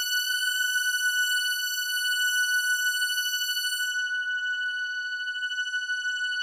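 Synthesizer tone with unison detuning and pulse width modulation, a steady bright sustained note with a gentle wavering, chorused shimmer, held alone for several seconds.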